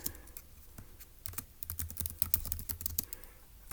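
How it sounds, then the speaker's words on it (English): Close computer keyboard typing, quick uneven keystroke clicks that pick up into a dense flurry midway before easing off, with no talk over it. "But let's go ahead and type it up."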